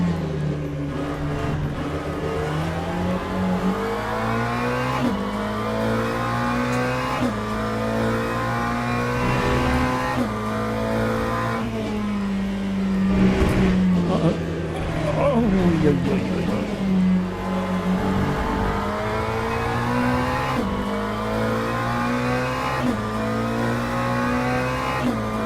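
A GT3 race car in the Le Mans Ultimate racing game at Portimao, its engine revving and climbing through repeated upshifts and downshifts, loud and continuous throughout, with someone talking over it.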